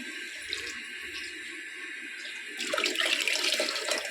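Water is poured into a cooking pot of rice and spices, first as a soft trickle and then as a louder, splashing gush for the last second and a half.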